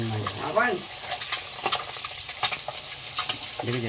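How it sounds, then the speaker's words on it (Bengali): Eggs frying in hot oil in a pan, a steady sizzle with stirring and utensil clicks through the clip, while a voice speaks briefly at the start and end. "আর এদিকে হচ্ছে ডিম ভাজা"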